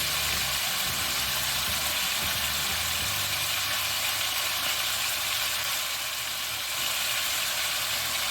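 Quartered small mushrooms sautéing in a pan for a Turkish chicken sauté, giving a steady, dense hiss and sizzle that continues unbroken at an even level throughout, with no talking.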